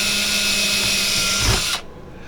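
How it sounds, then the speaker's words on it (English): A power drill bores a hole into the interior of a boat to mount a television. A steady, loud, high whine runs close by, then cuts off abruptly near the end. "we are about to drill our very first hole in the boat"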